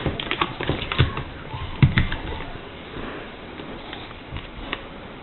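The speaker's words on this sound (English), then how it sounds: "Fold that right along the crease" Paper being folded and creased for an origami sonobe unit, with crisp taps and rustles in irregular bursts close by, some louder presses, and no speech.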